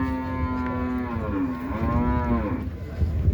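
A buffalo gives one long, low lowing call that rises and falls, close by, with faint ambient noise behind it, at a livestock market in Mansa.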